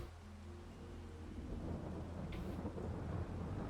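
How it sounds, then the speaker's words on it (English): Steady rain with low rolling thunder in Farming Simulator 22, a continuous wash of rainfall holding even throughout with a brief brighter crackle partway through, no talking. "And it is raining."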